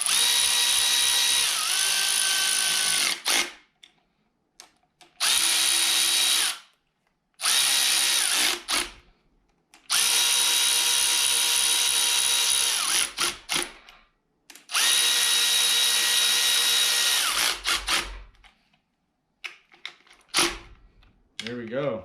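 Power tool, likely an impact gun or drill, running down cylinder head bolts over a fresh gasket on 243 heads for a turbo Camaro, in several loud close bursts of a few seconds each with short pauses between them.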